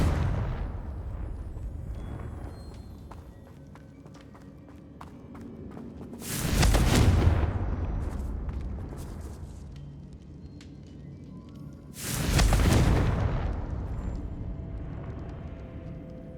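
A fiery Confringo blast spell cast in the Hogwarts Legacy game bursts twice with a loud, broad roaring explosion, each blast swelling and fading over a couple of seconds amid a steady background of game ambience.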